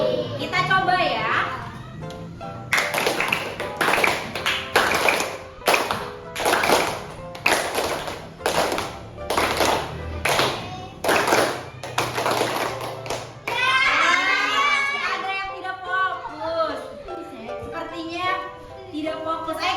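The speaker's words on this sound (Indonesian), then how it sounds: "Kalau 1 jari ibu, maka tepuk 1 kali. Kalau jari ibu 2, tepuk 2 kali." Children in a classroom clap in counted bursts following a teacher's finger signals, sharp group claps in regular short clusters with pauses, mixed with kids' chatter and voices between sets.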